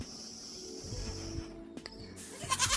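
A young goat bleats several times close by in short wavering calls, with some faint background noise and a burst of rustling toward the end.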